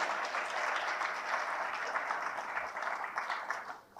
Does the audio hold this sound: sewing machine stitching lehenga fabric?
no